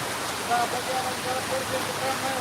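Heavy cloudburst rain pours over Pirachi Kuroli, a steady dense hiss of downpour with faint tonal chirps scattered through it, constant and close throughout.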